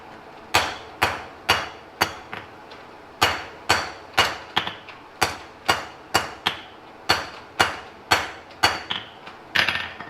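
Steady hammer blows on metal at a blacksmith's anvil during an evening forging session, about twenty sharp ringing strikes in a brisk, mostly even rhythm, close and loud with no talking.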